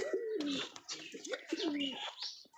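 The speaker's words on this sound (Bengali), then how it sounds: "এটা হচ্ছে আপনার গোল্লা গোল্লা কবুতরের বাচ্চা।" Racing pigeons coo close by in soft, throaty, rolling calls that repeat several times, with a few faint chirps mixed in.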